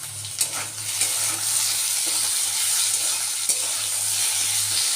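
Fried ridge gourd sizzles steadily in a pan while being stirred, with a few sharp scrapes of the utensil against the pan over a constant frying hiss.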